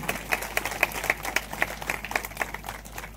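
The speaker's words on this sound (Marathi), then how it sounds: "सगळेजण टाळ्या वाजवून त्यांचं स्वागत करूया" A seated lecture audience at a motivational talk claps steadily to welcome an arriving guest, with dense, even hand-claps heard from across the hall at moderate volume, continuing without voices.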